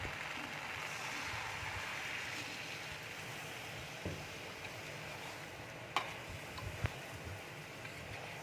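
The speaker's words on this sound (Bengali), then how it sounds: "এবার আমি একটু জল দিয়ে দিচ্ছি।" Water goes into a pan of frying masala for a mixed vegetable curry, giving a steady sizzling hiss that settles, with a few sharp clinks of a utensil near the end.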